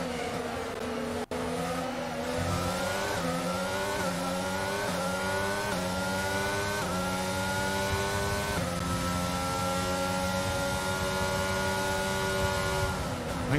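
Formula 1 race car engine in the F1 22 video game, an Aston Martin, wails loud and continuous, its pitch climbing and dropping repeatedly through gear shifts, with no talk over it.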